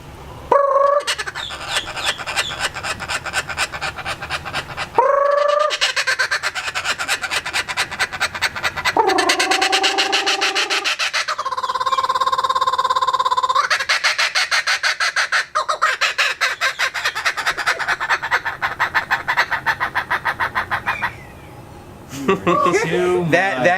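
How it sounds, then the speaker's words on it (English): A captive laughing kookaburra calls for about twenty seconds at an animal park in the Everglades, a loud, continuous run of rising and falling cackling, chuckling phrases with harsh rapid notes, heard up close. "This is our laughing kookaburra."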